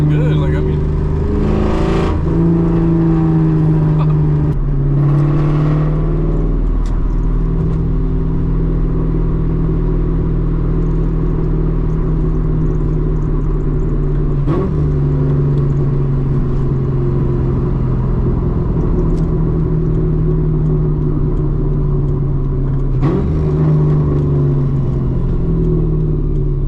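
A straight-piped 2003 Ford Mustang GT V8 drones loudly and continuously while driving, heard from inside the car, with a few sharp rev bursts and gear changes over a steady deep exhaust rumble.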